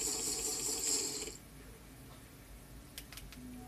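Minecraft water sounds: a steady rushing, splashing flow for about a second and a half, then quieter ambience with a few soft clicks and a brief tone near the end, with no voices.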